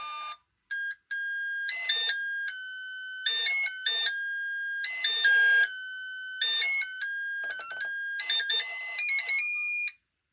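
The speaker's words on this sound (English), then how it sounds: "after the charging is complete, it will make another sound, a longer one, to let you know that the battery is fully charged." A power tool battery charger plays a melodic electronic chime of stepped high tones, a longer tune signaling a full charge, clear and close with no talking.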